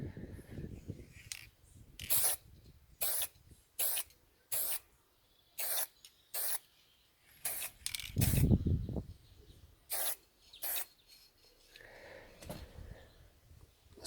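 Short hissing bursts from a spray can putting a coat of paint on a Matchbox Superfast Blue Shark model car outdoors, about a dozen quick sprays in an uneven rhythm with a few soft handling bumps.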